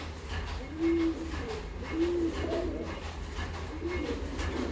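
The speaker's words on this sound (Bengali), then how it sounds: "আরও একটা পায়রা, এই যে" A pigeon coos three times in slow, evenly spaced low phrases, close and clear over a steady low background hum.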